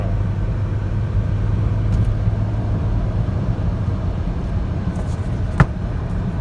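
A 2008 Saab 9-3 in sport mode pulls hard at full throttle on a freeway, its steady broadband engine and road roar heard from inside the cabin, continuous and fairly loud, with a brief knock near the end.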